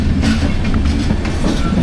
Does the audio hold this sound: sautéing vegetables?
no